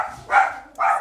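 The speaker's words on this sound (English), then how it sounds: "Sorry guys, guard dogs." Guard dogs at home let out two loud, close barks a half second apart, with nobody talking over them.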